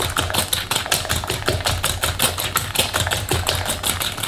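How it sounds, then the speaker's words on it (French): Eggs and sugar being whisked in a bowl for a quick raspberry cake, a steady fast rhythmic clatter of whisk strokes that continues loud and close throughout, with no talking. "on commence tout simplement à mélanger nos œufs et le sucre"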